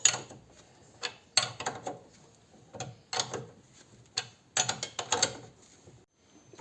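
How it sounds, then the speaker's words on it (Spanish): A hand ratchet wrench tightening the stabilizer bar link on an Opel Vectra C, close clicking bursts of ratcheting in short separated runs with quiet pauses between. "Vamos a terminar de apretarla."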